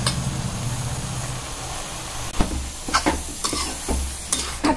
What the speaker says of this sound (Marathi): आता मी हे मिक्स करून घेते।